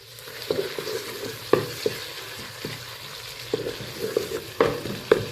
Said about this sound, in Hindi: अब मैंने फ्रेश लहसुन का पेस्ट बनाया वो ऐड किया, और अब मैं इसको अच्छे से फ्राई करूँगी